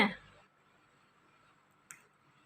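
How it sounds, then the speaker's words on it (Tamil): A sharp burst opens, then a quieter crack follows a couple of seconds later, like firecrackers popping at a distance against a faint background hum. "வெடி வெடிக்குதே"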